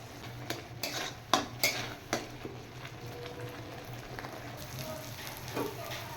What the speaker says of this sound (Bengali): এবার মশলাটা একসাথে ভালো করে একটু ফ্রাই করে নেব বন্ধুরা